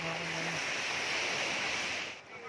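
Sea waves wash steadily at a beach shore, a broad hissing surf roar that stays fairly constant and moderately faint, with a brief low hum at the start.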